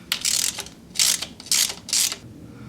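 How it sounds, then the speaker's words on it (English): A hand ratchet clicks in four quick bursts, loosening bolts on the transmission oil pan of a Chrysler PT Cruiser, close and crisp with short pauses between turns. "now we're gonna start taking these bolts out"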